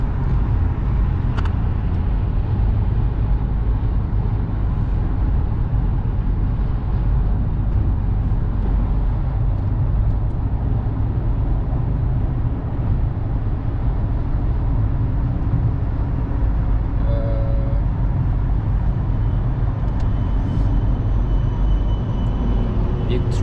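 A steady, close rumble of a car cruising on the highway from North Carolina to Washington, DC, with road and engine noise droning continuously throughout and a few faint clicks.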